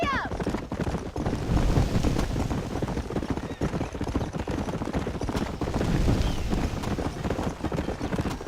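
A horse gallops in Red Dead Redemption, dense rapid hoofbeats thudding steadily and close, with a brief whinny near the start and no talk over it.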